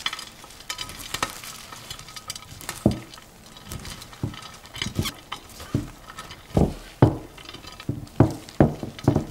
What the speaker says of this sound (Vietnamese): Trộn cho thật là đều lên.